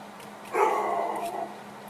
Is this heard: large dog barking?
yes